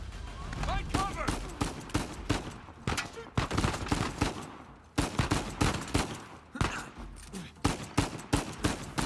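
Sniper and rifle gunfire in the game Uncharted 4, loud rapid shots cracking in irregular bursts, with voices shouting over the firing.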